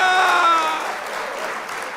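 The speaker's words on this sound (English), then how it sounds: "Round of applause." A large crowd applauds at a live event, a dense wash of clapping that starts loud and fades slightly over two seconds, with faint voices mixed in.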